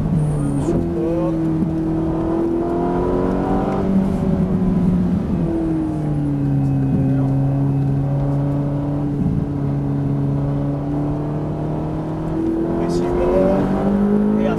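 A Ferrari F458 accelerates hard at full throttle on the Le Luc circuit, its engine note rising loud and close through a gear change as someone talks over the roar.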